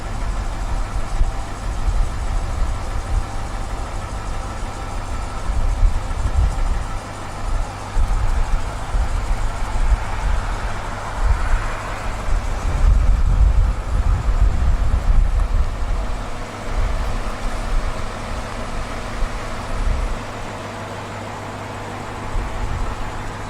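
A BMW car backs up under remote parking control from its display key, a low engine hum and rumble swelling and easing as it moves, fairly close with steady background noise and no talk.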